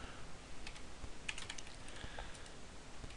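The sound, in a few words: typing on a computer keyboard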